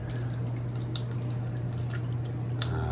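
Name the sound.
water running in drain pipes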